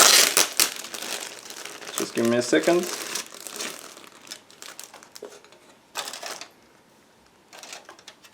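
Close-up crinkling and rustling of a plastic bag holding plastic model kit parts comes in bursts, and a voice speaks briefly partway through.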